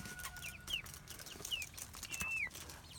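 Meat chickens clucking quietly in their pen, with a few soft, rising chirps and clucks spaced through the clip over a low background murmur.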